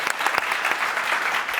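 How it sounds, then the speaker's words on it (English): A startup demo day audience gives a round of applause, dense and continuous, fairly loud and close, with a few distinct hand claps at the start before it settles into an even wash of clapping. "I think somebody was going to give you a round of applause."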